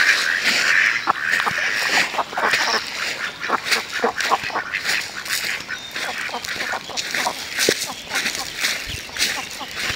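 Ducks on clear village pond water quack repeatedly in a lively, irregular chorus, fairly close and steady over the whole stretch, with faint rustling in the background.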